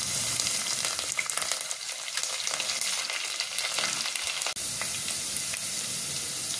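Onions and curry leaves fry steadily in hot oil for a Telugu pappu charu, a dense continuous sizzle with crackling texture that holds evenly throughout, close and moderately loud, with no voices.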